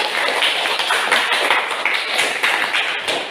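A classroom of students claps together in a dense, steady burst of applause, close and fairly loud throughout.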